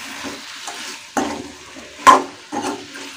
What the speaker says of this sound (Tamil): ஸோ எல்லாத்தையும் ஈவனாக மிக்ஸ் பண்ணி விட்டுட்டேன்